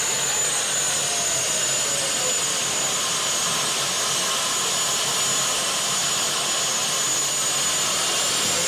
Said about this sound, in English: Twin turbines sitting on the side on that tractor right there.